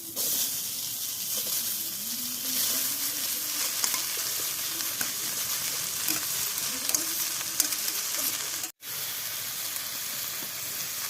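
Chopped bottle gourd hitting a hot wok for a Bengali lau chingri dish, a loud, close, steady frying sizzle with occasional stirring scrapes and a brief gap near the end.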